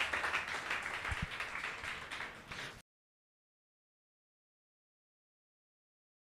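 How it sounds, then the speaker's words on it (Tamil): A church congregation clapping their hands together during a Sunday sermon, a fairly loud sustained burst of mixed applause lasting a few seconds before cutting abruptly to silence. "நல்லா கைத்தட்டு."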